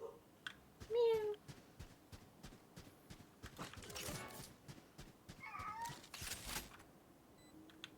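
A cat meows several times nearby, faint and intermittent, among soft clicking and rustling, with brief talk in the background.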